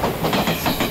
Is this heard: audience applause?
no